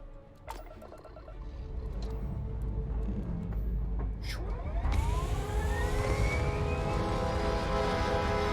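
A spaceship takes off in Starfield with a rumbling engine roar that builds steadily, joined by rising whine sweeps and a brighter rushing thrust midway, loud and close.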